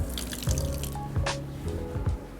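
A spoon is rinsed under running tap water, with a steady close splash and spatter against the sink and brief clinks of metal, continuous and fairly loud.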